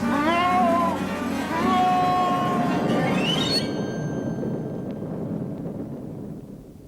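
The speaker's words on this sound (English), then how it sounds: "Cat!" A cat meows loudly in a long, wavering yowl, then a second drawn-out cry rising in pitch before cutting off, followed by a fading rumbling background.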